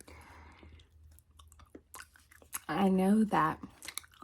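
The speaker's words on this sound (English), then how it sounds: "I'm just going to kind of be chewing gum," Gum being chewed up close in a soft-spoken ASMR setting, with scattered small wet clicks and smacks, while a quiet voice speaks briefly in the middle.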